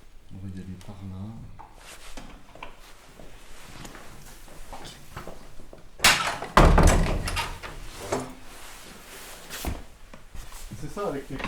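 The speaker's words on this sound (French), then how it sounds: "il n'y a aucune porte qui se ferme comme une autre" Heavy old wooden doors in a historic castle thud and slam shut, with a loud bang midway, creaks and footsteps around them and a person talking throughout.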